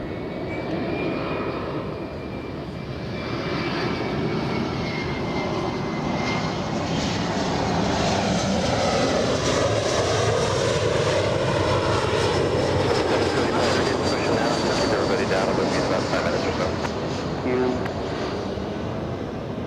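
An Embraer E175 airliner at Los Angeles International Airport, its jet engines giving a loud sustained roar and whine that swells and holds steady, heard from a nearby spotting position.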